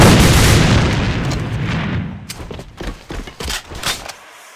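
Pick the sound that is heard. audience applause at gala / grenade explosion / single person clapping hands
grenade explosion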